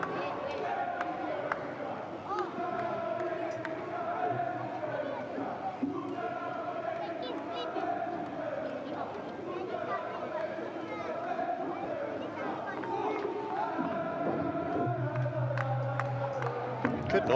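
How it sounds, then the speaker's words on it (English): Crowd noise at a Singapore Premier League football match between Albirex Niigata and Geylang International, a steady distant stadium roar with chanting swells, heard under a commentator talking throughout. "Good noise there from the crowd,"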